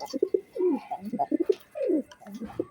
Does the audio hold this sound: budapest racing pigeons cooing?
yes